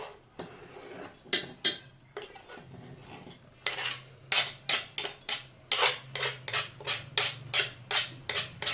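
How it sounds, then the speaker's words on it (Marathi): Coriander leaves being chopped with a knife on a board: a steady run of crisp, close tapping cuts, irregular at first and then settling into a fast even rhythm, with no talking. "मी कोथिंबीर चिरून घेत आहे"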